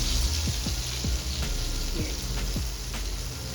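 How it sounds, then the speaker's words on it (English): Steak searing in a hot pan, a dense continuous sizzle with scattered pops and crackles, loud and close, with one brief spoken word. "Let's cook that side a little bit longer to get a little bit more seared"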